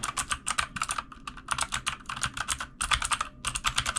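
Fast typing rattles across a computer keyboard in quick clustered bursts of crisp key clacks with short pauses, close and clear, with the keys sounding out in comparison with another board.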